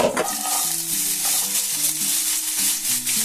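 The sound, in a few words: vegetables and carrots frying and being stirred in a pan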